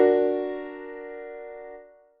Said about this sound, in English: An augmented chord sounds like this.